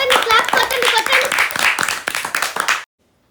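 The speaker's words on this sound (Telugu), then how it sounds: "క్లాప్స్ కొట్టండి కొట్టండి" Children clap along in a busy classroom during a comedic tuition lesson, a quick run of sharp hand claps mixed with chatter and voices, close and lively for about three seconds before cutting to silence.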